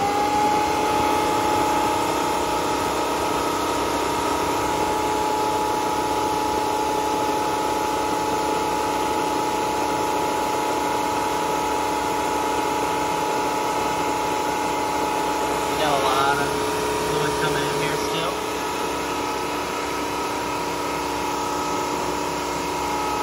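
A Bissell Crosswave Cordless Max runs its self-cleaning cycle, a steady motor and pump hum with faint mechanical ratcheting, loud and continuous throughout with a brief gurgling shift partway.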